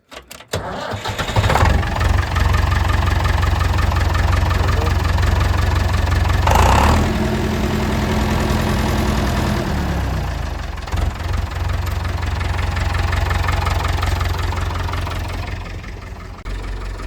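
A diesel farm tractor engine turns over and catches without glow plugs, then settles into a steady, loud, close idle with a low rumbling throb that continues throughout, a brief change in tone partway through.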